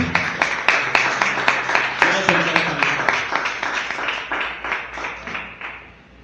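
A church congregation applauds together in steady, rhythmic clapping, a fairly loud and sustained crowd sound that fades slightly toward the end, with a faint voice underneath.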